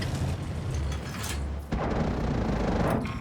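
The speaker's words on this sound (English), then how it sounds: "Load the hee rounds" Mechanical clanks and a heavy ratcheting thud come from a tank loading high-explosive rounds in a combat video game, with a steady engine rumble underneath and a sharp shift in the loud, dense noise partway through.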